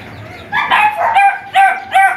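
Chickens at a home in the Philippines let out loud, close, drawn-out crowing calls in three or four bursts, with short gaps between them and nobody speaking.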